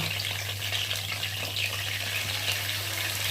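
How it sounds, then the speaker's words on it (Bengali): Pointed gourd frying in a pan with salt and turmeric gives a steady, even sizzle with a low hum underneath, continuous and close throughout. "আর দিয়ে দেবো হলুদ দিয়ে পটলটাকে বেশি ভালো করে লাল লাল করে ভেজে নেব"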